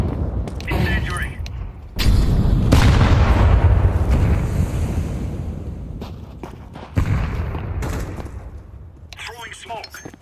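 Flashbang and incendiary grenades going off in a video game, loud booming blasts with long rumbling decay, one big detonation followed by a later second burst, with callouts spoken over them.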